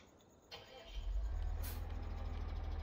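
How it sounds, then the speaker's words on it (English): A big tractor engine in Farming Simulator 17 starts up and settles into a loud, deep, steady idle rumble close by after a brief cranking sound. "Oh, I love the sound of that engine. It sounds so big and beefy."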